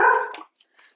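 A golden doodle lets out a single loud, close bark that cuts off sharply, followed by a faint trailing sound in an otherwise quiet room.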